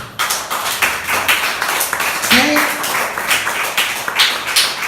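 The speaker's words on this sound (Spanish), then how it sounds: "Denle un aplauso a Cristo." A church congregation claps together in a steady, brisk rhythm during a service, the dense applause continuing throughout.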